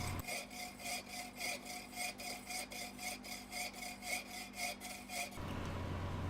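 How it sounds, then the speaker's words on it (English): A bolt clamped in a vise is cut to length with a saw: about five seconds of fast, even back-and-forth strokes, close and steady, then an abrupt stop. "put it in a vise, and cut it down to the length I need"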